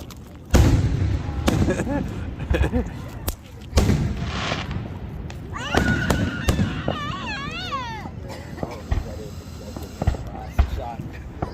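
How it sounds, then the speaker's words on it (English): 4th of July fireworks at a family celebration go off as several sharp booming bursts, with crackling between them. Voices and honking-like calls are heard over the show. "We got the whole family here watching fireworks"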